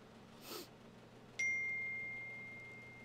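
A single bright notification ding from a phone receiving a live message, close by, ringing out and fading slowly over quiet room tone after a soft breathy sound.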